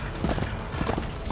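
A horse galloping in Darksiders 2, heard as a quick run of close, rhythmic hoof clip-clops over a low background, lasting just over a second.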